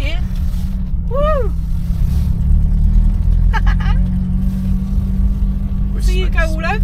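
A Vanden Plas car's engine drones loud and steady at close range as it revs and pulls away at a rally, its rumble continuous beneath excited voices and a shout.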